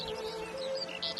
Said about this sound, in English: the song of the skylark.